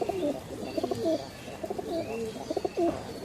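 Several soft, throaty pigeon coos repeat in short rolling phrases at close range, with no talking.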